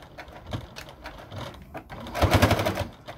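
Sewing machine stitching a Christmas stocking over bulky fabric, a close, rapid mechanical chatter in a short burst after some light handling sounds.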